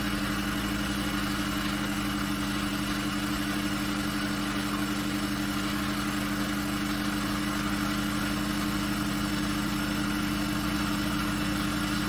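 A small DC generator driven by a flywheel energy storage rig runs near peak speed, giving a loud, constant mechanical hum and whine that holds steady throughout with no pauses.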